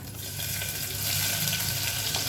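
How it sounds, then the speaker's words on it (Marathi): Black pepper, cloves, cinnamon, curry leaves, bay leaf and onion sizzle in hot oil in a pan for veg pulao, a steady, close, crackling hiss with no talking. "मिरी लवंग आणि हे दालचिनी ते टाकूया हे सगळं टाकलं कढीपत्ता आणि तमालपत्र टाकूया कांदा टाकूया"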